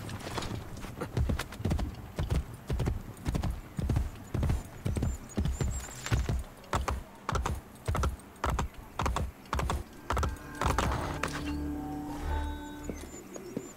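Horse hooves clopping in the video game Assassin's Creed Brotherhood, a steady galloping rhythm of close, crisp hoofbeats that runs for several seconds, then gives way to softer ambient game sounds near the end.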